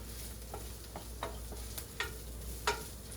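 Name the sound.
cooked meat frying with onion and cayenne in a pan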